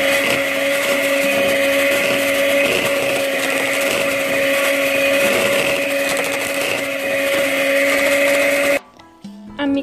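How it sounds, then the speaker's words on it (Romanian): An electric hand mixer whirs at a steady high pitch for several seconds, loud and close, mixing peach melba batter with cold water, then cuts off abruptly with some clattering. "Vom mixa cu mixerul aceste ingrediente până la omogenizare."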